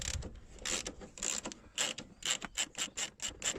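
A socket wrench ratchets in quick clicking strokes while removing a car's front control arm, the clicks faint and close, speeding into a tight regular rhythm toward the end.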